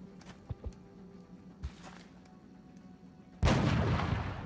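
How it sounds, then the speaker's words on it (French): A sniper shot fires in the XCOM video game, a loud sudden broadband blast near the end that rings on, preceded by a few small thuds and pops over a quiet ambient background. "Ça c'est une bonne chose, le tir de sniper."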